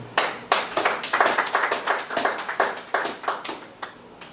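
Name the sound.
congregation applauding in church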